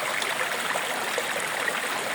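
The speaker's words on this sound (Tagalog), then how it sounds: "ganun pa rin yung daloy ng tubig" Water pours steadily at Kabuayahan Falls at the foot of a mountain, a dense, continuous rushing roar with no pauses, fairly loud and close, with no voices over it.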